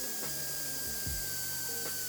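A power drill with a buffing attachment polishes a scratched video game disc, producing a steady close whirring rub with soft uneven grinding, running continuously with no talking.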